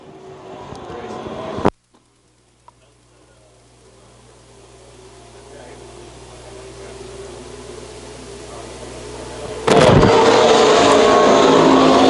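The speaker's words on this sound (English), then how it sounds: "Raven Justice going sideways down the front straightaway." B-Mod stock cars race a dirt oval at a Grand National A Main, with a loud engine roar that cuts out abruptly and then builds back in a steady rising drone as cars come around, ending in a sudden loud pass close by.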